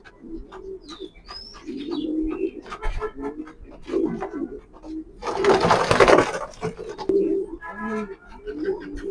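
Racing pigeons coo in soft low repeated calls, with a few higher chirps and a brief burst of rustling noise midway, close by.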